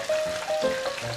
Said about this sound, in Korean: 이렇게 3분 정도 튀겨줍니다